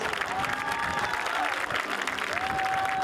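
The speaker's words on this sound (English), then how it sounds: "Please give another round of applause for Chris Wells" A crowd applauds an inductee at a hall of fame ceremony tied to a high school football game, with steady sustained clapping and cheering across the whole stretch and a faint tonal whistle-like sound over it.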